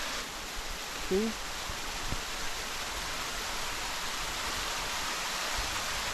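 Steady, full broadband rush of a waterfall beside a stream in a Korean mountain valley, loud and continuous throughout, with a brief faint voice early on.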